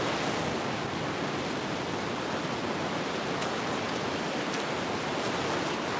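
Ocean surf at Mission Beach, San Diego, rushes in a dense, unbroken roar of breaking waves and foam, close and loud, with a hint of wind and no voices.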